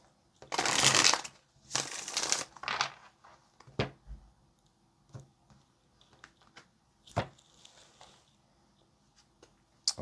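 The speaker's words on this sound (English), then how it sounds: "let's get this last shuffle" Tarot cards being shuffled in two brisk bursts of riffling, followed by softer taps and card handling; close and fairly quiet with no talk.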